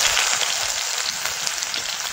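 Chopped onion fries in hot oil, with whole spices tempered in for a river crab curry, giving a steady, close, crackling sizzle with no talk.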